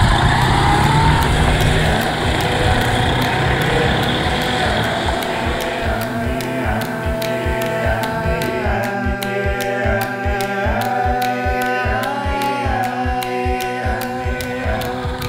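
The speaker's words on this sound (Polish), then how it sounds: "Zaznaczam, że stuka silnik cały czas od samego początku." A Fiat 126p Maluch driving on a road trip through Kyrgyzstan, its small engine knocking throughout; a loud, close, rough drone with a steady rapid ticking pulse that grows more pronounced as it goes.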